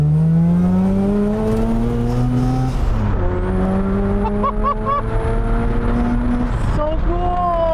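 Time-attack spec Mazda FD RX-7 with a rotary engine and stepped boost revs hard and high, its rising harmonic whine climbing through several pulls with brief dips between, loud and close, with people talking over it.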